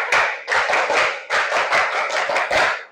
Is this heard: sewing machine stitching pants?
no